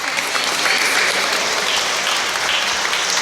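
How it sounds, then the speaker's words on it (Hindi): A congregation at a feast Mass for St Anne and Joachim applauds steadily, dense loud clapping filling the church without a break. "सबको एक स्वर में सिस्टरों को विश करते हुए ताली बजाएंगे"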